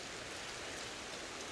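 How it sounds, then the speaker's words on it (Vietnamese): Rain falls steadily outdoors in a rambutan orchard as an even, soft hiss of drops, faint and continuous, with no voices. "Đấy, đang mưa này."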